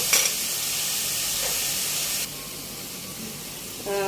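Food fries under a lid in a covered pan, giving a continuous broadband sizzle and hiss that drops slightly in level partway through, with a brief clink at the very end.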